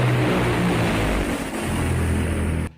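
Fighter jets escorting military aircraft on a night-strike and air-refuelling exercise fly overhead with a loud, continuous roar that cuts off sharply at the end.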